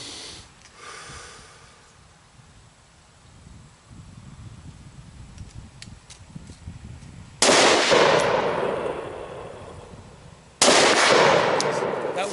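Two loud, sharp rifle shots fired at a target at an outdoor range, each a sudden close blast with a long decaying tail, separated by a few seconds of quiet breathing and handling noise.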